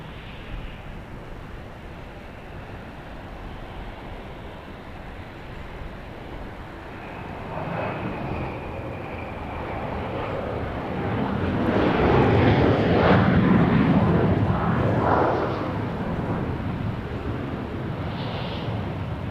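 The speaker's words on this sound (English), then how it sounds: "Flight 4758 is a MAX 8 arriving from Las Vegas." A Boeing 737 MAX 8 arriving from Las Vegas at Dallas Love Field: a steady jet roar builds gradually and peaks into a loud, broad rumble midway before easing slightly, heard alone at a distance.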